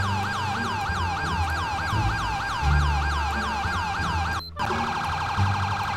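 An ambulance siren wails in the video game GTA V, a loud, fast repeating yelp cycling steadily over engine rumble, briefly dropping out for a split second before resuming.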